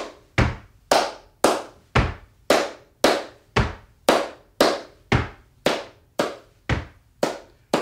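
Sharp hand claps repeat in an even, steady rhythm, about fourteen loud close strikes with quick decays, with no talking, demonstrating rhythmic patterns.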